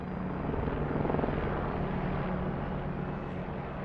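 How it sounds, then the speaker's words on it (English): A steady, loud rotor drone from a helicopter flyover at a police officer's funeral ceremony, a dense continuous roar that swells slightly and holds throughout. "a flyover of helicopters with a plane out of formation"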